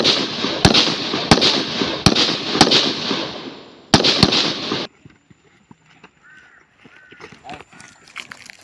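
Live-ammunition rifle shots at a military firing range during new-recruit training, a string of sharp, loud cracks at irregular intervals, then a quieter stretch with faint background activity and distant sounds.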